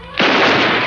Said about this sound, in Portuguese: É melhor dar um tiro pro alto.